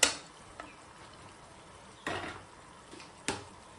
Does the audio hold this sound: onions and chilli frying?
yes